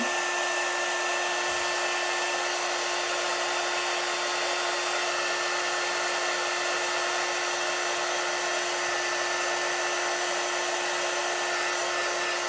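A dryer blows in a steady, unbroken whir for the whole stretch, drying chalk paste on a Chalk Couture craft project, close and constant with no talk.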